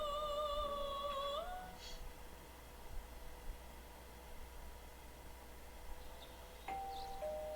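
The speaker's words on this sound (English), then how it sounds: "Someone rang the doorbell." A two-tone ding-dong doorbell from Persona 4 Golden chimes clearly at the start, then its tones fade into a soft hiss. A fainter chime returns near the end, with no voices.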